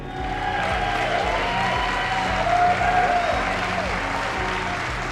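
Sustained audience applause fills a hall at a state party convention speech, a dense, even wash of clapping with a few faint cheers.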